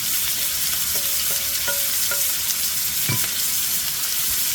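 Leftover food fries in a pan with a dense, constant sizzle, broken by a few clinks and scrapes of a utensil stirring against the pan.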